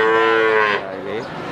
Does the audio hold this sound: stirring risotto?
no